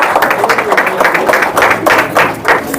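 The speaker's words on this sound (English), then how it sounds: "Can we have a round of applause, please?" A crowd applauds at a local cricket premier league player auction in Bangalore, loud and close, with uneven bursts of clapping over a short stretch.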